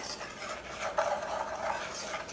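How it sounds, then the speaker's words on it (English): A whisk stirs dry sugar, cornstarch and salt in a bowl, making a soft, continuous scratchy swishing that is close and fairly quiet, with no talking. "And then we're gonna give this a good whisk."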